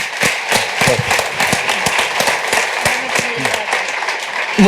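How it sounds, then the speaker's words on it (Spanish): Audience applause on a stage for Fernando Savater joining a panel, scattered and uneven clapping with distinct individual claps rather than a dense roar, moderately loud and close. "Un aplauso muy grande para él"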